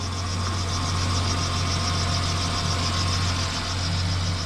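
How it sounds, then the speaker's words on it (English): Chevy Silverado pickup engine idling steadily up close, a constant low hum and rumble with a faint higher whine, loud and even throughout, no talk. "The engine's sounding good right now"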